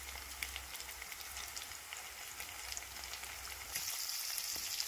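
Green chilli and ginger sizzle in hot oil with lightly browned onions for a zucchini sabzi. The frying hiss holds steady and close, swelling louder near the end, with no voices.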